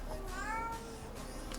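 A cat meows in a drawn-out, rising and falling cry, fairly close, over a low steady background hum.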